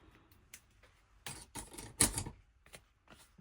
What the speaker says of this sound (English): I'm using my scissors to cut off that excess piece